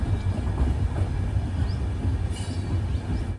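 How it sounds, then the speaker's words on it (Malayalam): Express train from Yesvantpur to Sindhanur on a non-electrified rural line, heard from inside a sleeper-class coach: a continuous close rumble of wheels and carriage, steady and loud, with faint squeals and a sudden cut at the end. "ട്രെയിൻ ഇപ്പോൾ ബുദ്ധ ഗുംഫ എന്നൊരു സ്റ്റേഷനിലേക്ക് ഇതാ എത്തുകയാണ്"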